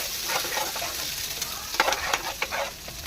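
Mixed vegetables with carrot and onion stir-fry in a hot pan, a continuous sizzle with several sharp scraping stirs and clanks toward the end, close up and with no talking.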